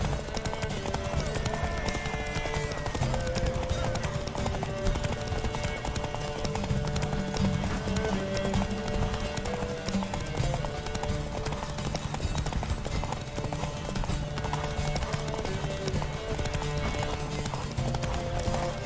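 Horses gallop in a race in the video game The Witcher 3, a dense, continuous drumming of hooves that persists over a low backing of game music.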